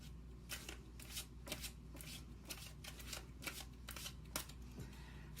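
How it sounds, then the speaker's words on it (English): Soft papery riffling of tarot cards being shuffled, a steady run of quick flicks and taps, fairly quiet and close, with no talking. "As you know, I shuffle in front of you"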